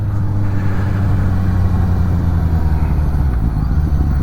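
A Suzuki GSX-S750 motorcycle on an evening ride, its engine a loud steady low drone mixed with wind rush throughout, close and without talk.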